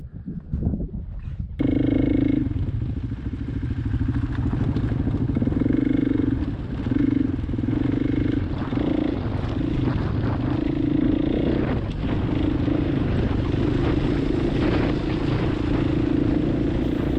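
Dual sport dirt bike ridden on desert dirt roads, its engine droning steadily and close for most of the time, with a steady hum and wind buffeting after a brief quieter start.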